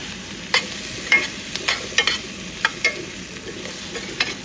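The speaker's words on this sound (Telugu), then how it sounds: "ఇప్పుడు కలుపుదాం చక్కగా." Raw banana curry stirred in a pan: a soft frying hiss underneath, with sharp spoon scrapes and knocks against the pan at irregular intervals, close by, no speech.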